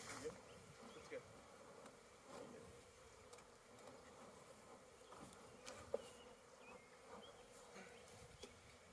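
Honey bees buzz around an opened beehive on an urban farm during a hive split, a soft continuous drone at some distance with occasional louder passes close to the microphone and faint handling noises.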